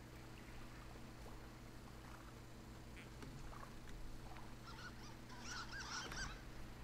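Birds honk faintly by a lake in the video game Firewatch, a few distant calls rising over a low steady hum of ambience, the honks clustering toward the end.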